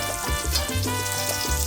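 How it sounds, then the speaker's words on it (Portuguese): Bacon fries in a pot for a traditional Spanish puchero with chickpeas, giving a steady, close crackling sizzle with a low bubbling undertone. "O bacon já está dourado e crocante"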